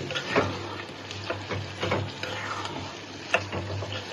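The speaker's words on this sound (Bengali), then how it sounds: "খুব সুন্দর করে ডিমটি কষাইছি" Eggs fry in oil within a spicy masala, with a steady sizzle broken by scraping stirs of a spatula against the pan, close and moderately loud, sometimes under a voice.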